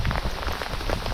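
Hail pelts down outdoors in a dense, steady patter of small stones striking the ground and surroundings, fairly loud and continuous throughout, with no talking.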